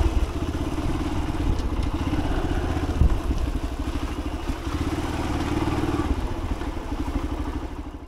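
A motorcycle engine idles with a low, steady rumble near a ticket counter at a forest attraction in Jhargram, close and continuous, with an occasional clatter or thump.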